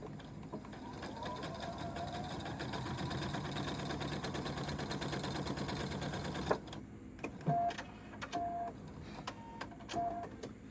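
A sewing machine stitches quilt squares along a marked line, running steadily for several seconds and then stopping, followed by a few soft handling clicks and brief faint sounds.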